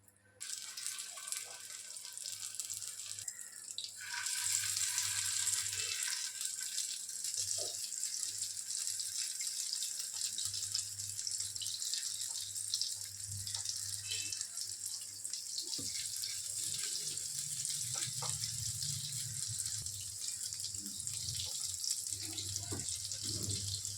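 Malai kofta balls deep-fry in hot oil with a little ghee, a steady, bright sizzling hiss starting after a brief quiet moment and continuing throughout with faint bubbling and occasional soft clinks.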